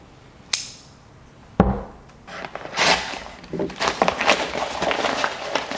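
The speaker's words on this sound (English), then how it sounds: "Got my trusty little Curtis knife here for unpackaging." A small knife slicing open a mailed package: two sharp knocks, then a run of scratchy cutting and tearing sounds, close and fairly loud, with no one talking.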